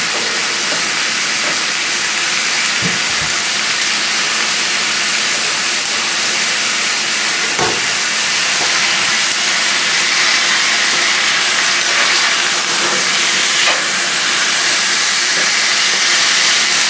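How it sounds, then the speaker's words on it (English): Marinated ribeye bulgogi sizzles loudly in a hot pan, a dense continuous hiss that stays even throughout, with a few faint clicks and knocks beneath. "Get that nice sizzle going."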